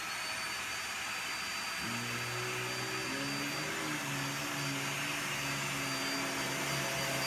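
Hoover REACT UH73510PC bagless upright vacuum cleaner switching on, a steady loud whoosh of airflow that jumps into a rising motor hum about two seconds in and then runs evenly, with no talk.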